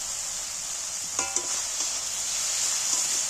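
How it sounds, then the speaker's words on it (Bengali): Ground chilli, coriander, cumin and garam masala frying in plenty of oil give a steady soft sizzle, with a few quick stirring clinks and scrapes near the start. "এইটাকে আমি ভালো করে একটু নাড়াচাড়া করে ভেজে নেব"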